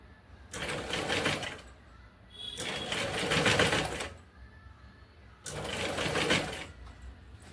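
Sewing machine stitching a blouse back neck design, three bursts of rapid mechanical whirring separated by short quiet pauses, close and fairly soft.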